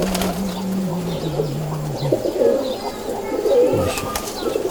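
Feerozpuri and Rampuri pigeons coo close by in low, rolling calls, with soft rustling and faint background noise around them.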